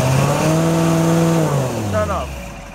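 A 2010 Amtex Inferno Eruption machine engine holds a loud high-RPM drone, then winds down as it shuts off, its pitch sliding steadily lower, close and continuous.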